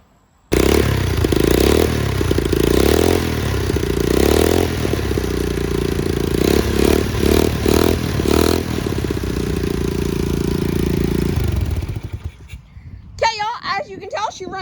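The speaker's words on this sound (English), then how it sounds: "So let's kick it over so you can hear that two-stroke." A cheap $450 two-stroke dirt bike is kicked over and idles loudly and steadily up close, with clattering and uneven revving for about eleven seconds before cutting off into quieter handling noises.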